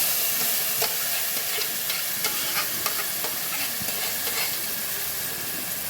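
Ground spice paste is poured into simmering fish curry and stirred, giving a steady close sizzle and hiss with scattered scraping and stirring clicks throughout, no voices.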